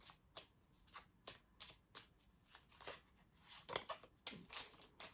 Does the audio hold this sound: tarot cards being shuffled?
yes